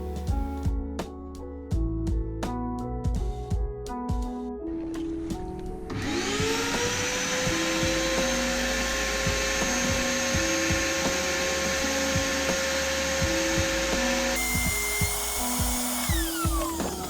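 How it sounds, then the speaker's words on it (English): A wet vac sucks old sand out of a pool sand filter, at first a series of even mechanical pulses, then a loud continuous motor whine with gritty rattling as the sand is drawn in, shifting pitch near the end. "Now I'm gonna get my wet vac and vacuum out all this old sand."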